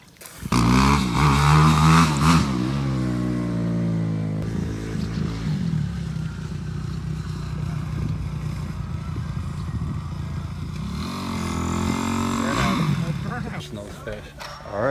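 Can-Am Maverick X3 side-by-side engine driving, heard as a loud sustained rumble and drone that rises and falls with throttle changes over about fifteen seconds, with people talking over it at the start and near the end.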